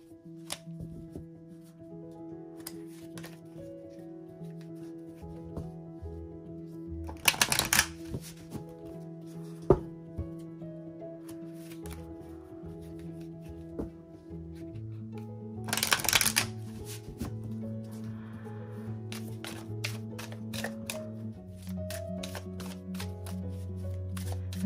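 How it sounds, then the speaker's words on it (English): Madame Andorra fortune-telling cards are shuffled by hand in repeated riffles and taps, with two louder bursts of fast shuffling among quieter card handling, close up and alone. "I'm using the Madame Andorra fortune telling cards"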